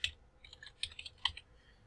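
Quick keystrokes on a computer keyboard while entering a Cisco router configuration command, a short run of crisp, close clicks with uneven spacing and no voice.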